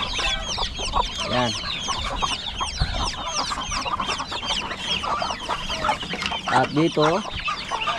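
Chickens cluck repeatedly among geese and ducks on a Philippine farmyard, many calls overlapping near and far while a voice talks over them.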